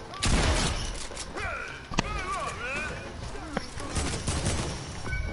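Video game gunfire from henchmen in Fortnite, with bursts of shots and sharp cracks mixed with in-game effects, while players talk loudly over the action.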